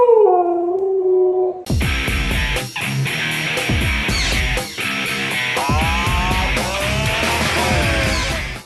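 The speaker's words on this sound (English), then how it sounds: "My husky's howling for this one." A husky howls loudly and close, with long wavering howls broken by yips and whimpering cries, alone with no talk.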